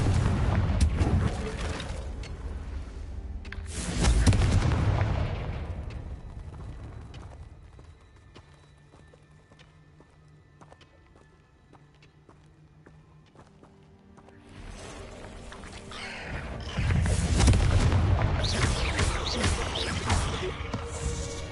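Confringo spell explosions in the video game Hogwarts Legacy: loud bursts at the start and again near the end, each a broad blast with crackling debris, and a quieter stretch in between.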